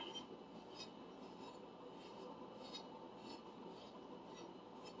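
A 250mm Minamito sujihiki knife edge is drawn across a whetstone in steady, rhythmic rasping strokes, close and fairly quiet, with no talking.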